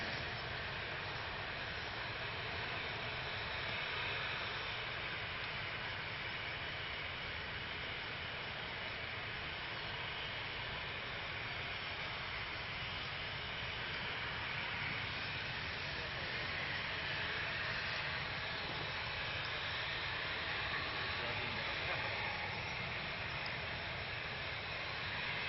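Emirates Boeing 777 engines at Manchester Airport, a continuous broad roaring rumble heard from a distance, steady and fairly faint throughout.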